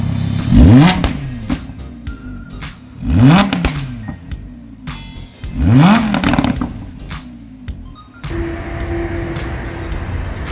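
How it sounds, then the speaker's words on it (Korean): A 2016 Lamborghini Huracan LP580-2 with dual mufflers revs its engine three times in a row, each sharp rising blip falling back to idle, followed by a steady, quieter idle. "배기음입니다"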